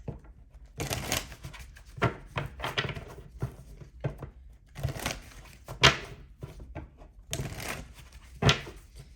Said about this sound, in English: Let me shuffle really quick here.